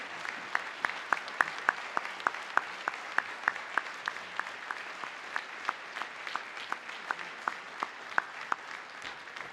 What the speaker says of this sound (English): Let's have a round of applause for the Lawrence Chamber String Ensemble and Scouting America Troop 38.